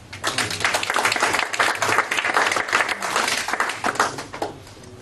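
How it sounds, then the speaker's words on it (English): A live audience at a stage show applauding a volunteer, a full burst of clapping that swells, holds and tapers off near the end, loud and without speech. "give me a round of applause"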